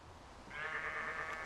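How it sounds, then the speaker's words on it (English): A single sheep bleats in a Minecraft game, a clear, wavering mid-pitched bleat starting halfway through and holding for most of a second, with no talking. "Evil sheep in a box."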